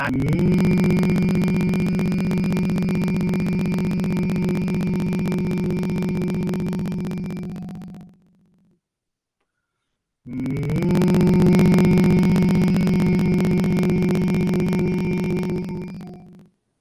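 A steady nasal hum of Bhramari pranayama breathing, held loud and unbroken for about eight seconds, a brief silent pause for breath, then a second long hum of the same pitch.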